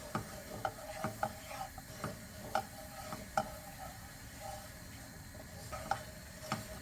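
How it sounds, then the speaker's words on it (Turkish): Flour toasting in melted butter in a pan for Turkish hünkar beğendi, heard as a soft steady sizzle with intermittent scraping and tapping of a utensil stirring, close and fairly quiet, with no one talking. "Unun kokusu çıkana kadar tereyağında kavuruyorum."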